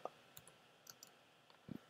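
A computer mouse double-clicking while editing an image in Canva: a few faint, sharp clicks scattered across a quiet background, with a closer pair near the end.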